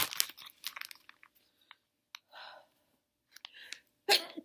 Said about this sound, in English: have to sneeze